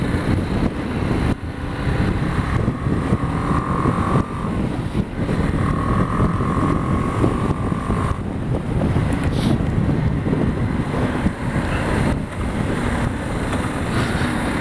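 A BMW G 310 GS single-cylinder motorcycle rides along rough roads, its engine drone buried under heavy, constant wind rush across the microphone, with no one speaking.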